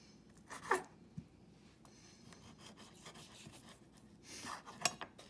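A knife cuts pork spare ribs into small pieces on a board, with intermittent close scraping and rasping strokes and a couple of sharper knocks against bone. No voices.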